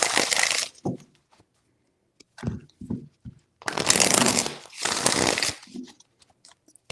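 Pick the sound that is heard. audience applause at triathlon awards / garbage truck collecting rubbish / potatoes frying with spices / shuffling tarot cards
shuffling tarot cards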